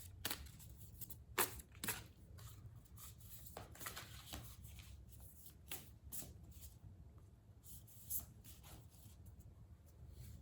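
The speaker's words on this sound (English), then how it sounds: "let me pull a few cards for you as advice about this person, or in general" Tarot cards are shuffled and drawn close up, with soft rustling broken by crisp riffles, snaps and taps at irregular intervals, all quiet and without talk.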